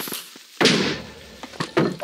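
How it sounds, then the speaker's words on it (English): An explosion in the video game Minecraft hits as a sudden loud burst followed by a rumbling decay and a few smaller crackling pops. "explosions apparently don't break anything"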